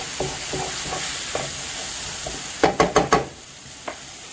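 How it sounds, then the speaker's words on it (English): A utensil scrapes stuck-on bits off the bottom of a pan over a soft frying sizzle, with light scrapes at first and then a quick run of four louder scraping strokes near the end. "I love all that stuff that gets stuck to the bottom. I love just scraping that all off."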